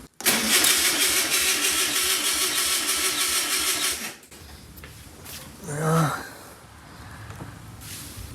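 A VW Beetle engine, unstarted for over 25 years, cranks loudly for about four seconds with a rhythmic starter churn, then briefly catches and revs once before fading to low background noise.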